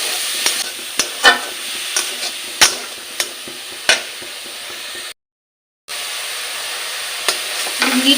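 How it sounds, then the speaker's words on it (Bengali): Grated carrots fry in a pan with a continuous sizzle while a utensil scrapes and knocks against the metal in irregular strokes, close and loud, with a brief silent gap partway through. "আমি 2 মিনিট এরকম করে ভেজে নেব, যেন গাজরের কাঁচা গন্ধ না থাকে।"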